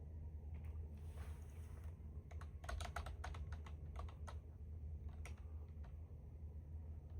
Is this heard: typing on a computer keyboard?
yes